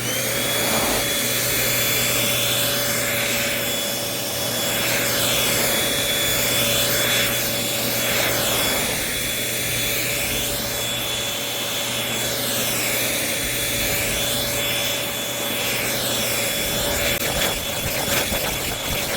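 A Bissell 3-in-1 vacuum runs continuously over carpet picking up finely ground coffee grinds, a loud, steady motor whine with a rushing hiss and sweeping swells as the head moves back and forth, close and alone.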